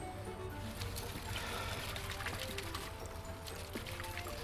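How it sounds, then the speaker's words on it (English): Warm water poured over canna lily roots to rinse off soil, a quiet, continuous trickling and splashing that runs steadily with a few small drips and spatters. "I'm using a little bit of warm water"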